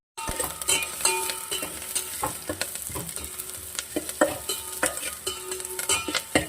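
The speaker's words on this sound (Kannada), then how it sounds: "ಸೊ ಫ್ರೈ ಆಗಿದೆ ಈರುಳ್ಳಿ" Onion frying in coconut oil in a pan, a continuous sizzle broken by repeated scraping and clinks as a spatula stirs, close and fairly loud with no voices.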